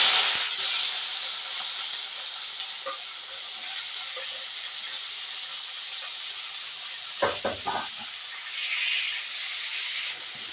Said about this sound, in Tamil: கடுகு நல்லா பொரிஞ்சிட்டு இருக்கும்போது நம்ம வந்து வெங்காயம் இருக்கு இல்லையா, தட்டி வச்ச வெங்காயம், இதை வந்து இதில் ஆட் பண்ணிக்கலாம்